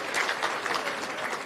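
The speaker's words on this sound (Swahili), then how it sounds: "Tumpigie makofi kwa mara nyingine tena." A large outdoor crowd at a cultural event in Turkana applauds, giving a continuous dense patter of many hands clapping at once, moderately distant and steady throughout.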